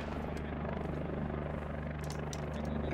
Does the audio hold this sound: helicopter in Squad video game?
yes